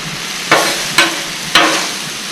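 Teriyaki beef sizzles on a griddle under a constant bright hiss, broken by three sharp scraping strokes of a spatula at regular intervals, close and loud with no speech.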